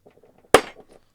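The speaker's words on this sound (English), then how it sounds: "whack this with a spring-loaded center punch to center the hole" A spring-loaded center punch strikes a 12 gauge shotgun shell once with a sharp, loud metallic snap. Faint clicks come before it and a short ring follows.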